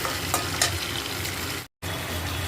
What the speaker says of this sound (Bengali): এবার আমি বড়িগুলোকে দিয়ে দেব, কারণ বড়িগুলোকে দিয়ে ঝোলটা দেব